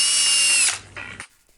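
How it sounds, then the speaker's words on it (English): A power drill with a big bit bores through wood: a loud, steady whine that cuts off after about 0.7 seconds, followed by a short quieter burst and a clunk. "we're gonna use a pretty big drill bit, and we're gonna drill right through the hole into the wood"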